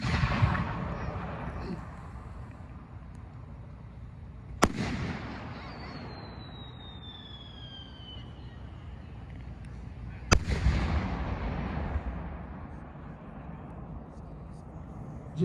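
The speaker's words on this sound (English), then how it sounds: "So here goes Mike Pareto's second shell" Aerial firework shells, including handmade shells, burst at a fireworks festival with two sharp, loud booms heard from a distance, each followed by long crackling and rumbling decay, with a rising whistle between them and people talking nearby.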